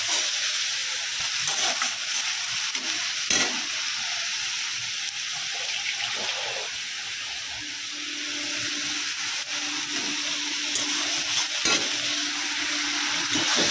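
Chopped onion hits a pan for a bitter gourd dish, giving a soft continuous sizzle with occasional stirring scrapes and clicks, moderately close with no voices.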